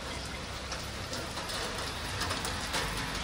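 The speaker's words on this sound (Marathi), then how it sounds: "अर्ध्या रस्त्यात वापस पाऊस आला बघा" Steady rain pours down outdoors, a dense, even hiss of drops striking surfaces without pause, fairly loud and close, with no voices.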